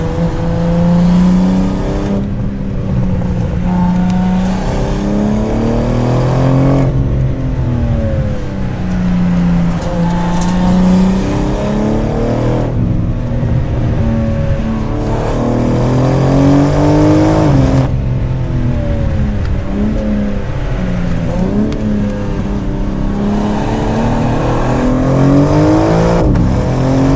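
A 2023 BMW M4 CSL engine revs loudly and continuously during a test drive, its pitch climbing and falling through repeated gear changes, heard up close from inside the car without talking.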